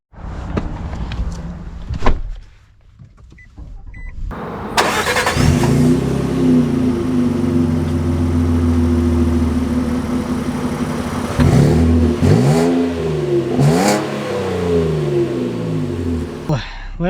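A 2025 Nissan Frontier S entry-level pickup truck starts up and pulls away, its engine note rising and holding steady close by, with brief door and mechanical sounds before it sets off.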